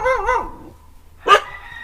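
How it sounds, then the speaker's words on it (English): A small dog gives a couple of quick, high yips close by, followed by a short sharp bark after a brief pause, with no talking over it. "Hi, little dog."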